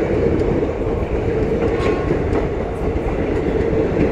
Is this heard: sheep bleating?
no